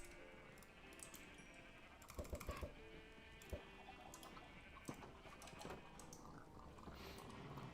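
Sheep in the Minecraft video game bleat faintly now and then over very quiet background noise, mixed with soft clicking taps like keyboard typing.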